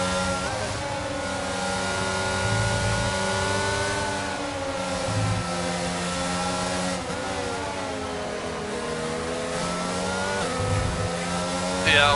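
McLaren and Alfa Romeo Formula 1 cars in a racing video game, engines whining and shifting pitch continuously as they race close together, with an excited commentator talking over the engine noise throughout.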